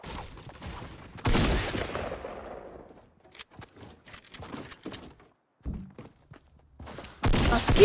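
Gunfire in a Fortnite match: a loud burst of rapid shots, then scattered fainter pops and thunks through a quieter stretch, and another sharp loud burst at the end, with no voices.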